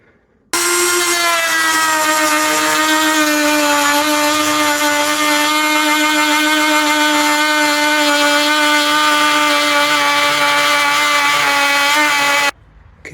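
Power tool cuts steadily through a metal rear door spare carrier bracket, a loud, sustained whining grind with a strong steady pitch that starts abruptly, holds for about twelve seconds and then cuts off.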